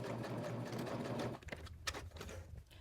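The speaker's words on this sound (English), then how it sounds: "I'm going to cross it just slightly and back stitch to secure it." A sewing machine back stitches fabric, running in a fast steady whir for over a second, then slowing into short uneven bursts and clicks, close and moderately quiet.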